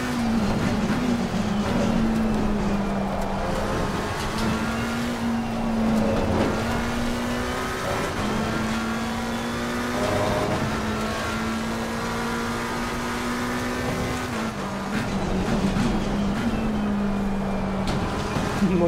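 Race car engine droning steadily at Paul Ricard circuit in a racing video game, pitch climbing and dropping through gear changes with quick blips on downshifts, loud and continuous throughout.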